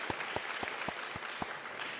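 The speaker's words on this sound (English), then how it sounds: "Should we do a round of applause for the lunch before we get started?" Scattered, thin audience clapping at a food summit panel, a handful of distinct claps in an irregular rhythm from a room of listeners, brief and moderately quiet with no one speaking.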